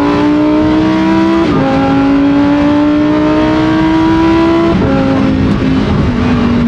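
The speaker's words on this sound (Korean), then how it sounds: "우리가 슈퍼카에 기대하는 가장 큰 감성이라는 건 이런 거잖아. 이런 배기음이잖아요." A Lamborghini Huracán STO supercar exhaust roars loudly and close, climbing through the revs with two sharp upshifts, alone without talk.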